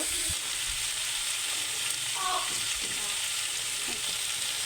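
Vegetables fry in a pan with a little turmeric and salt, giving a steady, dense sizzle throughout, with a few faint stirring scrapes and clicks beneath the hiss.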